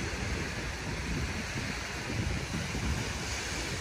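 Surf and gusty wind at Dolomite Beach, a steady broadband wash of waves with rumbling wind buffeting the microphone, continuous and fairly close, with no voices.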